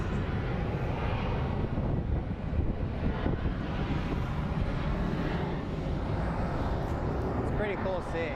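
A Southwest Airlines jet taxiing at Phoenix Sky Harbor International Airport, a steady broad engine rumble and whine holding loud throughout with wind noise and light talk mixed in.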